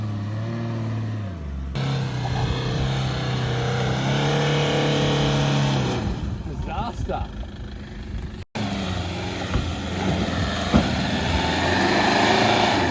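A car, a Westfalia van, drives north along the Kalumburu Road toward Drysdale Station in the Kimberley outback, its engine droning steadily and shifting pitch over a rough road. Voices talk over it and wind buffets the vehicle.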